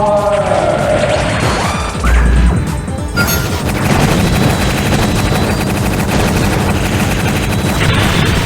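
Dense, loud gunfire in the Starfighters: Raven Station video game, in a forest battle on Naju. Rapid bursts and a sharp crash near the start give way to continuous shooting and explosions throughout.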